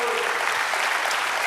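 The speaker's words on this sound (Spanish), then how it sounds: "Denle aplauso al Señor." A church congregation applauding during a sermon, steady dense clapping throughout from a large crowd, with speech mixed faintly underneath.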